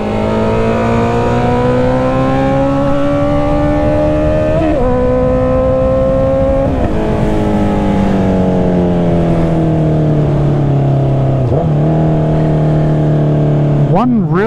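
A Honda CB650R motorcycle with the exhaust baffle removed accelerates hard through several gear changes, its engine note climbing, dropping at each shift, then climbing again, loud and close from the rider's position.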